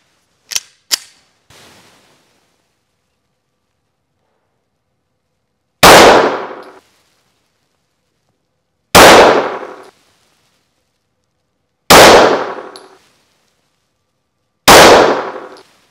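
HS H11 compact pistol with a compensator and slightly longer barrel fired at a 15-metre target: two light early cracks, then four loud, sharp reports spaced about three seconds apart, each with a short ringing decay and no voices.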